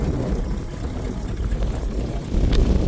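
A loud, rough engine of a 1979 Dodge Power Wagon with no exhaust rumbles steadily up close, a deep unmuffled drone with a brief rise in intensity near the end.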